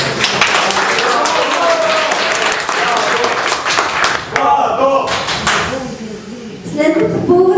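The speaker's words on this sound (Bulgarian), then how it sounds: "Моля за вашите аплодисменти." A crowd applauds with steady clapping close by at a school chemistry and biology day event; the clapping thins out and a voice speaks over it.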